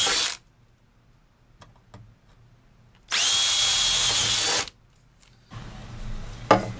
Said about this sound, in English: Now let's drill a couple of holes for those mounting screws to go in.